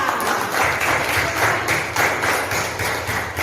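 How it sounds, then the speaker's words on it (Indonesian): A classroom of students claps together for two classmates, a steady, dense round of applause lasting a few seconds. "Tepuk tangan buat Hesti dan Maria."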